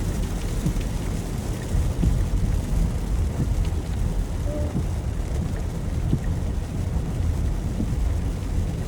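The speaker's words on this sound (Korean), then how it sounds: "이게 빗소리도 녹음에 잘 들어갔으면 좋겠어요." Summer rain during a sunshower falls steadily, heard from inside a car on a commute home. It makes a dense, even hiss of drops with a low rumble underneath, and no talking.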